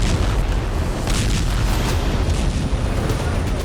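A heavy, continuous rumble of explosions from a military strike in the Ukraine war roars for several seconds, dense and loud like blasts or artillery, with no distinct pauses.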